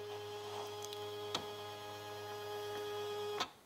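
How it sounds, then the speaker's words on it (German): A W6 Wertarbeit embroidery machine with its EU5 embroidery unit hums steadily while the unit travels down, with a couple of sharp mechanical clicks and a thump near the end, quiet and close. "Die Maschine fährt nach ganz unten."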